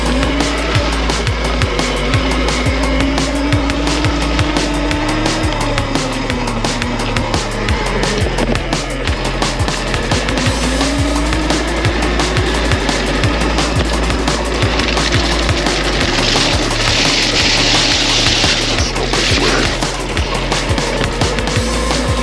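A mini electric bike bought on eBay is ridden, producing a continuous loud motor whine that rises and falls in pitch over a constant rolling rumble of wheels.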